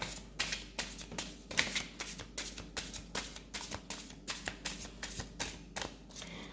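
A deck of tarot cards being shuffled close up, a steady run of rapid riffling bursts repeating evenly throughout, with no talking over it.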